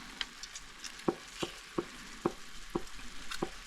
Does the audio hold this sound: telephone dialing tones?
no